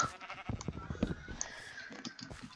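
A Minecraft sheep bleats in short, faint cries amid quiet game noise.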